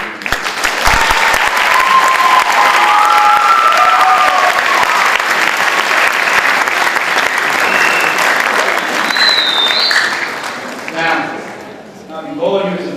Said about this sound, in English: a round of applause for the students